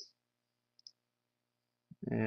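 A few faint, sharp computer mouse clicks, spaced apart over near silence, while setting up MySQL database fields in Lazarus/Delphi, followed by a voice starting to speak at the end.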